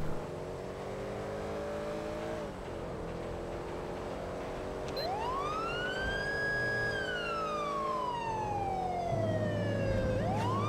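A police car siren in the GTA V LSPDFR police mode on a North American highway wails in a long rising and falling sweep, joined midway by a second tone, over a steady six-cylinder engine drone, with no talking.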